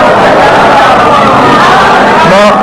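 A large audience recites salawat together in unison as applause, a loud, dense wall of massed voices chanting for a few seconds.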